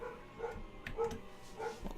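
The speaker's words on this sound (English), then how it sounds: "Listen, my dog's cheering me on. You can hear it from the other room." A dog yips and barks from another room, several short muffled calls at a moderate distance, with faint background noise and no clear speech.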